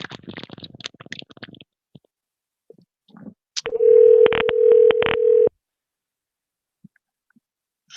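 A telephone call being placed: faint handling noises, then a steady loud dial tone broken by a few sharp keypad beeps, followed by silence and a couple of faint clicks, with no voices.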